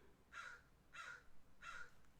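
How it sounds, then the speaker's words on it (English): A crow caws outdoors three times at a steady, even spacing, faint and distant against a quiet background. "I hear a crow out there, but I can't see it."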